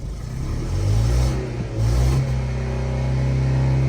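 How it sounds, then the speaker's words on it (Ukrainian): An Opel Zafira A engine with a misfire, running close up and loud, revving twice in quick surges before settling back into an uneven, rough idle, with no talking. "Зараз машина працює, газується, але троїть."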